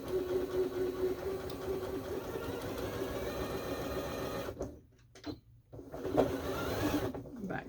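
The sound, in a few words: sewing machine stitching quarter inch seam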